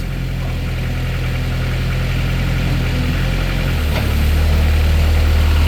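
Steady, loud idle of the Kubota engine on a 2014 Moffett M55 truck-mounted forklift, a low droning rumble that shifts pitch slightly as the mast hydraulics work, with no talking.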